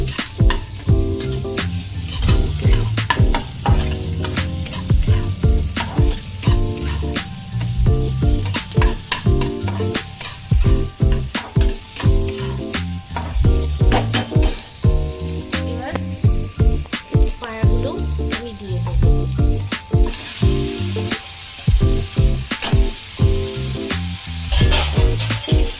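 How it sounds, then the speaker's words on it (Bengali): Garlic and ginger sizzle in a little oil for a mutton tangri stew, with a steady frying hiss and frequent scraping, clattering stirs. The stirring is close and loud and keeps going throughout, with no voice. "ভালো করে নাড়বো, যাতে রসুন আর আদার গন্ধটা, কাঁচা গন্ধটা কেটে যায়"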